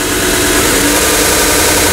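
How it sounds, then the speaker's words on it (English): A 1x30 belt grinder sander for knife sharpening runs at speed in a steady, loud, continuous mechanical whir with no breaks, heard alone. "that shows you how the sander works"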